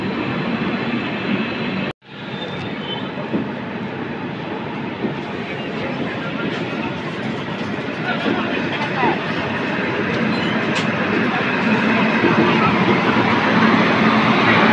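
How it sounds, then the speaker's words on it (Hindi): Hindi narration carries on over the steady broadband roar of a superfast express train at speed, running between Mumbai LTT and Puri. The rumble builds slightly over time, with a brief dropout near the start. "फाइनली रफ्तार पकड़ ली हमारी ट्रेन ने।"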